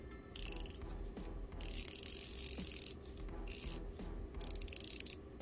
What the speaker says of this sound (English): you got 1, 2, 3 tabs on the actual bezel, which is 120 click